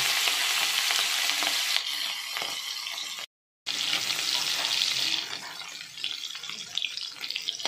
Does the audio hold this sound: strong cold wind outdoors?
no